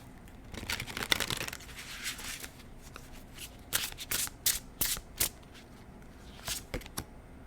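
A tarot deck shuffled and cards pulled by hand, close up, with rapid riffling at first, then a series of separate crisp card snaps and slides, quiet overall and no speech.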